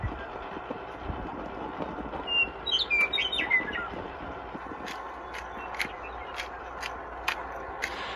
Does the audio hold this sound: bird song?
yes